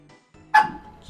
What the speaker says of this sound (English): Sorry, dog barking.